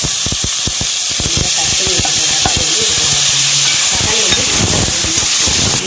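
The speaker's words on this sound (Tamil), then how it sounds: "இப்போ இது கூட வந்து நம்ம தக்காளி ஆட் பண்ணிக்கலாம்." Tomatoes sauté in a pan for tomato rice with a steady, close sizzle and hiss throughout, broken by irregular clicks and scrapes from stirring, and a voice talks briefly in the middle.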